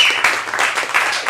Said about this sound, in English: can we have a round of applause for the Crane Theater?